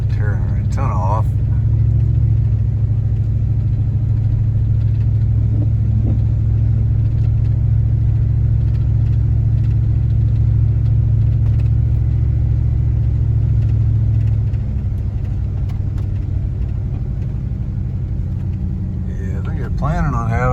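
A car rolls along a narrow park road through Cacapon Resort State Park in the rain, its engine a steady low rumble that stays close and constant throughout, with a driver talking over it.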